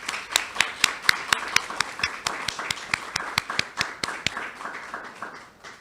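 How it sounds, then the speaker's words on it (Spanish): A small audience claps for a Cuban physician, a sparse handful of distinct, sharp hand claps falling in an uneven rhythm that thins out toward the end. The clapping is faint and fairly close, with no talking. "me parece que este sería un momento importante para darle un aplauso a esta mujer importante"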